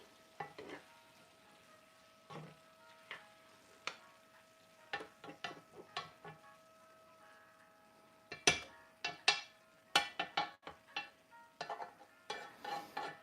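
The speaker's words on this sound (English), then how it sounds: "Scraping our sides because I want this to be clean" A spoon scrapes around the sides of a pan of cottage pie filling in a series of quiet, irregular scratchy strokes, some sharper and closer, over a faint steady hum.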